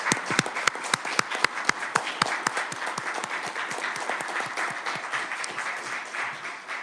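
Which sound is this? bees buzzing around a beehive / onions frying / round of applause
round of applause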